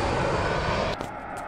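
An airliner with CFM engines, an A320 from Olbia, lands at Rome Fiumicino, its broad engine roar loud and steady before dropping away abruptly near the end.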